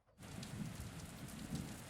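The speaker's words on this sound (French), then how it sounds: "on peut penser qu'il pleut à verse" A heavy downpour, added as a sound effect, starts almost at once and continues as a steady, dense hiss of rain with low rumbling underneath.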